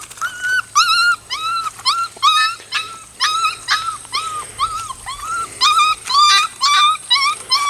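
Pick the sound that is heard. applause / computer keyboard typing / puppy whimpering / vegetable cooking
puppy whimpering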